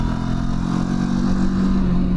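QJ Motor SRT 700 X with a 698 cc Euro 5 Plus twin-cylinder engine, running steadily with a continuous low, throaty drone and slight mechanical clatter, close and fairly loud with no talk.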